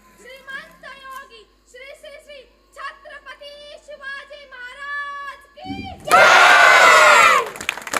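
A child chants the Shivgarjana war cry in a steady, rhythmic sung voice, then a large crowd bursts into a loud, roaring shout that holds for about a second before falling away.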